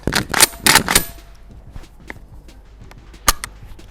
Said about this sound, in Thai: ปลดแมกกาซีน เคลียร์ปืน